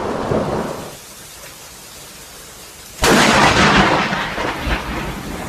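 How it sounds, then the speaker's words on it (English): A nearby lightning strike hitting a tree during a storm: rain patters, then a sudden sharp crack bursts into a loud, sustained rumbling roar of thunder close by. "Lightning strike right in front of me."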